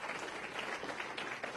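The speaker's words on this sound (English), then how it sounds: "Have a round of applause for these people," Audience applause at a Veterans' Day ceremony honoring veterans' groups, a steady moderately distant wash of clapping from a crowd, continuous for the whole stretch with no voices.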